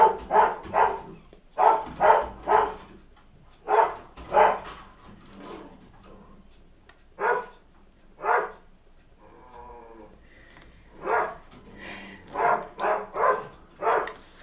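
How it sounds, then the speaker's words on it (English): A dog barks repeatedly in loud bursts indoors, with clusters of sharp barks followed by pauses and a brief whine, then more barking toward the end. "Sorry about my dog. I was waiting for him to be quiet before I try talking."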